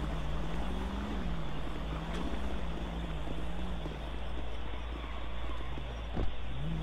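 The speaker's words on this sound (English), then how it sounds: "I'm gonna move my car" A car engine drives in a police roleplay video game, a continuous low engine hum that rises and falls gently in pitch as the vehicle moves, with a faint knock near the end.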